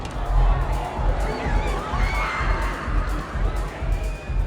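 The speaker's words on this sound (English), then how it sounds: "we can hear people in this club screaming as the doors swing open" Muffled crowd noise from inside a club, with people screaming and shouting as the doors swing open, a dense, continuous roar of many voices with excited yells over a low rumble.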